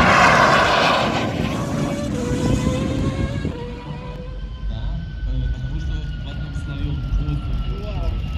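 An aerobatic propeller airplane with a high-performance engine at the 2022 Piešťany air show gives a steady, rising and falling engine drone with a whining pitch that shifts. A commentator talks over it.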